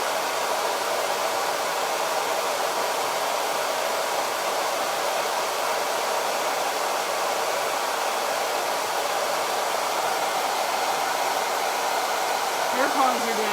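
A hair dryer runs continuously and evenly as it dries thick Chalk Couture ink paste on a shirt, a close, steady whir with no speech.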